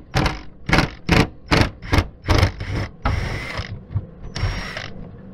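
A screw being backed out of a Can-Am body panel, a loud close ratcheting tool clicking in a steady series of bursts, then longer whirring runs as the screw spins free.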